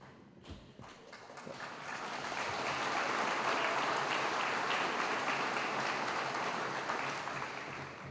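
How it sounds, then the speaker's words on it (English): Audience at a high school graduation ceremony in a gym breaks into applause that swells after a second or two and holds as a broad, distant wash of many clapping hands before easing slightly at the end. "I know that applause means we wish you were done."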